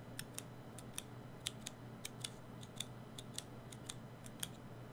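Faint, crisp clicks of a Cherry MX Brown tactile mechanical key switch being pressed repeatedly, about twenty light taps in an irregular typing rhythm over a steady low hum.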